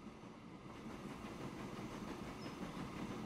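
Mikado steam locomotive straining up a hill in the Transport Fever game, a continuous dense rumble with a faint rhythmic chugging, steady and fairly quiet throughout.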